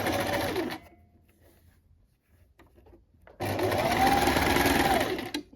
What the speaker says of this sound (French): vous allez réaliser une piqûre de maintien à 5 mm du bord